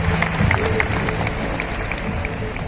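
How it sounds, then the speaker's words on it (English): An audience applauds at the closing ceremony of the International Film Festival of India in Goa, a dense burst of clapping that stays loud and close before easing slightly toward the end. "a round of applause for Manoj Bajpayee"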